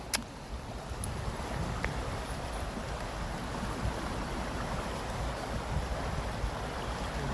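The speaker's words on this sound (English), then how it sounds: "High, fast-paced tide." The overflowing River Liffey in Dublin rushes at a high, fast tide, a steady broadband roar of flowing water with some wind buffeting the microphone and a faint knock near the start.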